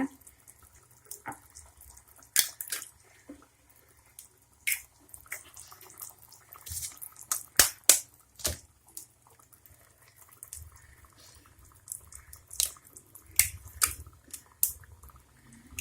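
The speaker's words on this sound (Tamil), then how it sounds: "இப்போ என்ன பண்ண போறேன்னா முட்டையை வந்து உடச்சி ஊற்ற போகிறேன்" Eggs are cracked and poured into a pot of simmering Tamil egg curry (udaicha muttai kulambu), giving scattered close clicks and soft liquid splashes over a low, steady bubbling hum.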